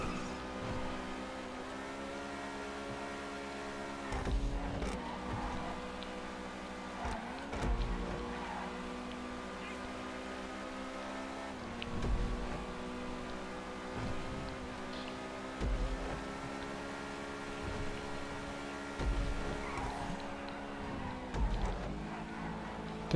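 An Overflod Tyrant supercar racing laps in GTA Online, its engine droning steadily with repeated rises and dips as it accelerates and shifts, a continuous game-engine tone with no talk.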